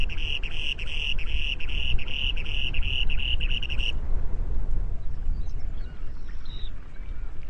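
A male spoon-billed sandpiper gives a rapid, steady trilling territorial call on tundra near a lake, loud and continuous for about four seconds, then stops, leaving wind and faint background chirps.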